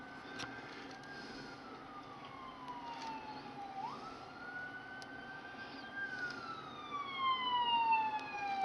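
Emergency vehicle sirens wail in the distance across a city, rising and falling in long sweeps that grow somewhat louder toward the end, over a steady urban traffic hum.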